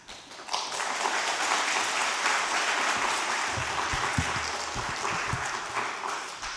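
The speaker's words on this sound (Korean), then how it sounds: "나오실 때 큰 박수로 환영하겠습니다." A church congregation bursts into sustained applause, many hands clapping loudly and steadily for several seconds before easing slightly toward the end.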